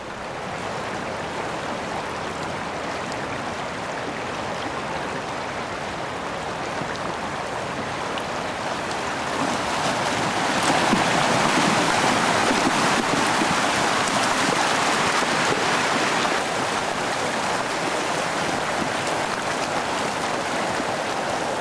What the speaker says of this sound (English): be ready to move here as the Yosemite Creek and all of its might is coming toward us